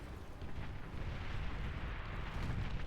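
Dense, continuous rumbling barrage of D-gun fire from a Beyond All Reason battle, a steady roar of overlapping blasts that swells slightly toward the end, with no talking.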